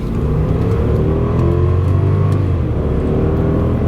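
A 1999 Lexus LS400 engine growls under hard acceleration, a loud, steady, close rising drone with no talking.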